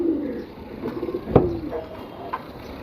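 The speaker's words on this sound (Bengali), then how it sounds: "প্রত্যেকটা কবুতর মাসাল্লাহ অনেক সুন্দর কবুতর" Domestic pigeons in a home loft coo low and near for a few seconds, with a sharp knock partway through and faint background noise.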